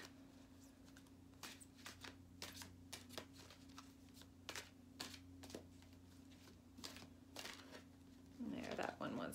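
A Gene Keys card deck is shuffled in a quiet room, giving a run of crisp, papery riffles and snaps close by, then a brief rustle as a card is drawn.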